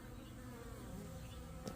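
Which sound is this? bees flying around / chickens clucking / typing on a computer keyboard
bees flying around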